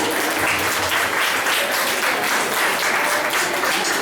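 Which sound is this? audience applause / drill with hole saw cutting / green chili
audience applause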